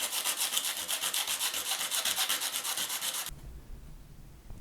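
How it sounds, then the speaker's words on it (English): Steady rhythmic rubbing strokes of sandpaper on a guitar inlay on an ES 335 build, close and continuous, stopping abruptly near the end to leave faint low rumble. "Leave that to go off and repeat the sanding process."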